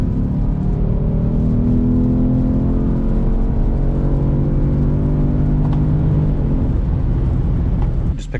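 A Mercedes C63 engine drones with a steady low rumble and a slowly shifting pitch as the car moves off, loud and close throughout with no voices over it.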